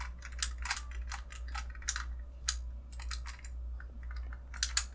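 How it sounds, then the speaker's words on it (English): Missile parts on a Hot Toys Iron Man Mark III collectible figure being pushed back down, producing a quick series of small plastic clicks and snaps, close and crisp over a low steady hum. "You push the missiles back down."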